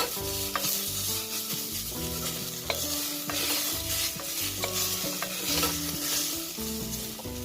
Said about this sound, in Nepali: मसला पनि थोरै बेर भुट्नुपर्छ।